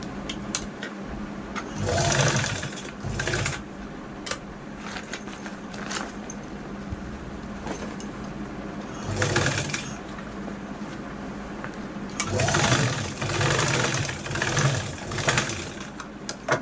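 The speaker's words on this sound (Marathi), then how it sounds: "आता यानंतर या कडेने पण आपण स्टिचिंग करूनच घेऊया" Electric sewing machine running in repeated bursts as it stitches along the side of a fabric bag during zipper fitting, a steady close whirring motor hum that rises and pauses between runs, with no talking.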